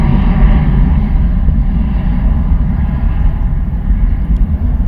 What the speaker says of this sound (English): Nice and loud from Ryanair off to Valencia this morning,